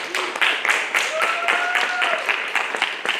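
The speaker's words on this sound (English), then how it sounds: "Let's vote with applause" A live comics-challenge audience claps in an uneven, rhythmic patter, with a voice briefly rising over the clapping.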